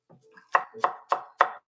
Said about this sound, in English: So now I'm going to start chopping.